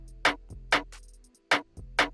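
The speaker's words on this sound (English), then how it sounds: "I use this hard snare as well." Hard snare sample in a moombahton FL Studio beat: four punchy, bright snare cracks with softer ghost hits and a low bass underneath, played solo.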